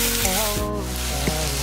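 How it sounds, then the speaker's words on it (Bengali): Ginger and garlic paste added to hot oil in a frying pan while cooking coriander rohu fish gives a loud, steady, close sizzle throughout, with no talking. "এবার আমি এর মধ্যে এই যে আদা আর রসুনের পেস্ট করে রেখেছি ওটা দিয়ে দেবো।"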